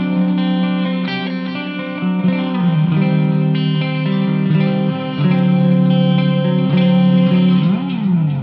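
Electric guitar played through an amp modeler with delay and compressor, sustained chords and notes ringing loudly and continuously.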